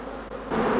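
Honey bees buzz densely at the entrance of a hive fitted with a pollen trap whose 8 mm holes let only bees pass, a steady close swarm drone that swells louder halfway through.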